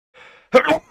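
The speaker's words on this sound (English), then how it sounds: "That's sneeze." A short breathy intake followed by one sharp, close sneeze burst, quick and loud.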